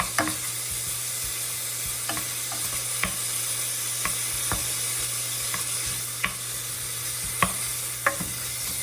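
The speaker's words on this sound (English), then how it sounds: "I'll just use a wooden spoon to break it apart" Bacon frying in a pan while a wooden spoon breaks it apart for fried rice: constant close sizzle punctuated by sharp, regular spoon knocks and scrapes.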